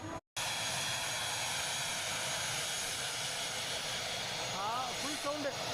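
An airplane lands near a sandbank off a Tanzanian island, its engine a loud, continuous broadband roar that holds steady throughout, with a voice briefly heard near the end.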